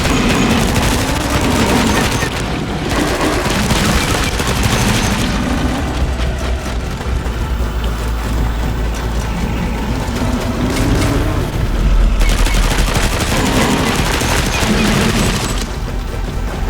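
Special ammunition fired in the video game Dying Light The Beast produces loud, rapid bursts of gunfire with booming impacts, dense and continuous across the clip with brief pauses.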